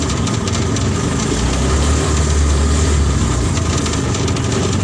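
A car fitted with a motorcycle engine climbs a slope in second gear, its engine droning loud and close with a steady low rumble and no break in the sound.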